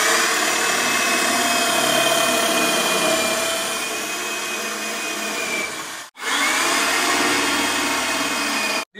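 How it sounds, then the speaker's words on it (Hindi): A power drill bores into wood, its loud steady motor whine holding for several seconds, cutting out abruptly, then starting again and running on with no voices. "अब बस हमारा काम रह गया इसके अंदर ड्रिल करने का"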